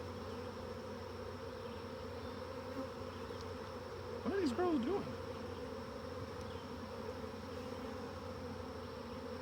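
Honey bees drone steadily near an open hive during an apiary inspection, a thick continuous buzz that carries on under a brief spoken remark partway through.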